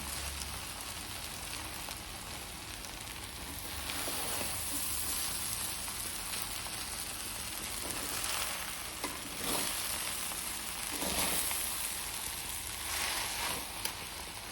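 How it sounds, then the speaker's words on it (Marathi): Sabudana khichdi is stirred in a pan over a low gas flame, giving a steady soft sizzle with repeated scraping stirs and gentle crackling, close and continuous with no talking. "आता मी मिक्स करून दाखवते बघा"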